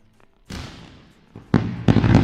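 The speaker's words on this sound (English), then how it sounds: "We're going to have a beautiful round of fireworks as soon as we lose this money." Fireworks effect from a trading platform: a burst of crackling pops, then a quieter hiss, followed by two louder crackling bursts in quick succession, close and loud with no talk.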